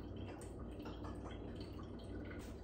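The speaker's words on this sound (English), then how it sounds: "I'm going to pour this in because I know there's grounds in there" Liquid poured over coffee grounds in a kitchen, a soft continuous trickle and drip with faint splashing, close and quiet.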